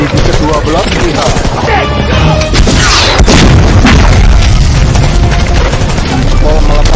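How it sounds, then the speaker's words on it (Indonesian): A bazooka blast hits a ninja headquarters in a loud action film scene: a heavy boom around the middle, buried in a dense, continuous roar of gunfire, crashes and a driving score. "Interpol melepaskan bom bazooka ke markas Osuno."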